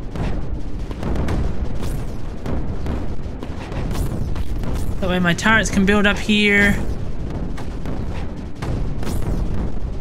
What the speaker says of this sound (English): There is so many explosions!